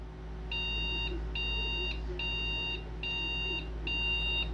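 A computer motherboard gives five POST beeps during a test of second-hand PC parts: five evenly spaced, short electronic tones, each about half a second long, over a steady low fan hum.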